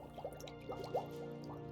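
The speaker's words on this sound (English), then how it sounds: "Why were there bubbles? I heard bubbles." Underwater bubbles burbling around a German U-boat submarine in the UBOAT game, a series of soft gurgling pops over a steady low engine hum, fairly quiet.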